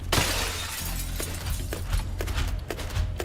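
Glass shattering in the video game Crime Boss, a loud crash at the start followed by a dense run of breaking and tinkling shards, with several sharper smashes spread over the following seconds.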